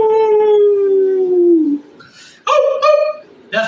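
A long falling wolf howl, loud and close, followed by a brief pause and then several shorter, higher, broken howls and yips.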